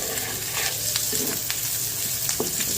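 Soybean and potato curry fries in a pan with a steady, close sizzle, broken by occasional stirring scrapes and taps.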